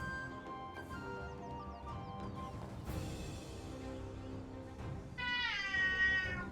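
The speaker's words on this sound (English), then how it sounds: "Oh, my silly cats are arguing with each other." Two house cats argue with each other, trading quiet, drawn-out meows and yowls over a steady background hum, ending in a longer, rising caterwaul.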